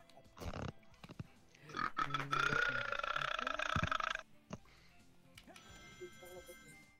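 A long, exaggerated cartoon-style burp from a person, loud and drawn out over a couple of seconds, with brief voices and small noises before and after.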